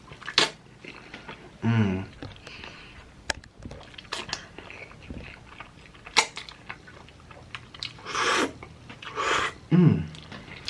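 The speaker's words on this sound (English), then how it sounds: "Let's have a big slurp of this." Chick-fil-A mozzarella noodles being slurped and chewed up close, wet bursts of slurping and biting in short clusters with quiet gaps, plus a brief murmur of appreciation.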